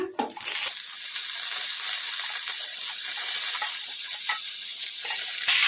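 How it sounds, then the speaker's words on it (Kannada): Washed gongura (pundi) leaves dropped into hot oil burst into a loud, dense hiss of sizzling and steam that stays steady, with a brief clatter at the start. "ಪುಂಡಿ ಪಲ್ಯನ ಕ್ಲೀನಾಗಿ ತೊಳೆದು ಒಂದೆರಡು ಸಲ ಈಗ ಎಣ್ಣೆಗೆ ಹಾಕ್ಕೊಂಬಿಡೋಣ"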